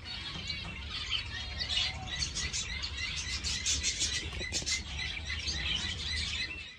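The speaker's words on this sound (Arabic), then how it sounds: "شلون اكاثر طير الحب" Lovebirds chirping in an aviary, a dense, continuous chatter of many small birds calling and tweeting together, steady and fairly close, with low background rumble beneath.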